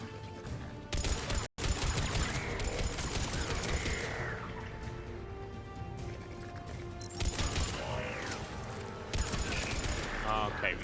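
Gunfire in the Mass Effect 3 video game: dense, continuous bursts of shots and impacts with a steady clatter, loud and close, lasting the whole stretch apart from one brief dropout near the start.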